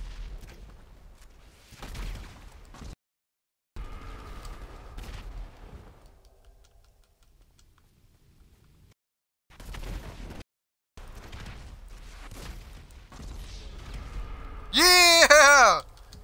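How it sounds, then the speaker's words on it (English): Gunfire and explosions from a GTA 5 Online match come in bursts separated by brief silences, with sharp popping reports and a loud blast near the end, mixed with game sounds. "I guess it's a whole explosion war."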